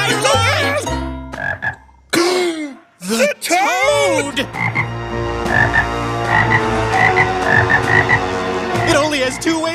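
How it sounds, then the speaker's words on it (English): A cartoon toad lets out loud, close, drawn-out croaks in a rapid series, set among other animated voices and vocal effects. "The toad!"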